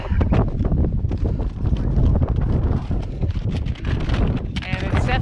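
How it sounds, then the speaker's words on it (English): Wind on the summit of Mount Lafayette buffets the microphone in rough, continuous low gusts, close and fairly loud throughout, with scattered knocks and rustles mixed in. "we're up on the summit of Lafayette, and it is a little bit windier than it was elsewhere"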